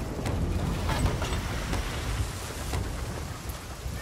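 Rain falls on a pirate ship in the game Sea of Thieves, a dense, steady hiss of downpour with scattered sharper drop impacts, heard alone with no talking.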